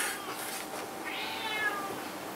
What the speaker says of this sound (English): Now that I've managed to get the cat back in the window.